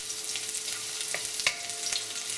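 Small pieces of garlic sautéing in a pan for tuna sarciado, with a steady hiss and sizzle and a few light clicks of stirring, close and alone.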